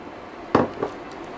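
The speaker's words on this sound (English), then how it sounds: "I'm going to put my cherries in as well" Cherries tip into a pot of nearly boiling syrup, giving one sharp clattering splash and then a softer knock.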